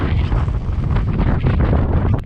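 Extreme wind blasts across a rugged Lake Superior point, a loud, continuous roaring buffet against the microphone with gusty surges and no voices.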